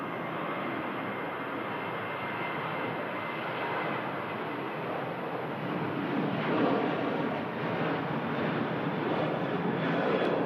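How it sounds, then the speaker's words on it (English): A Ryanair airliner climbs away after takeoff from Manchester Airport, a steady, moderately distant jet roar that swells slightly toward the end, with no one talking. "Powerful climb there from the Ryanair."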